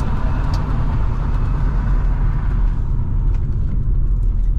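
A BMW E46 engine with standard exhaust drones with a low, steady rumble from inside the moving car, the exhaust note constant and no talking over it.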